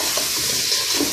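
Chicken pieces go into masala frying in a pot for chicken pulao, giving a close, steady, hissing sizzle that lasts about a second.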